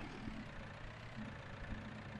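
A tractor engine idles in Farming Simulator 19, a steady, unbroken mid-to-low rumble that holds an even level throughout with no talk over it.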